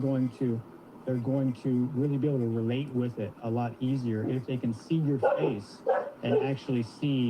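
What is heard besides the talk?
dog barking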